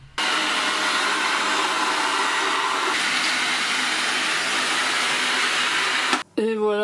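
Tineco Carpet One carpet cleaner running in drying mode on a carpet, giving a loud, steady suction roar that holds unbroken and cuts off abruptly, followed by a brief voice.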